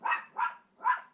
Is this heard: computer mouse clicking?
no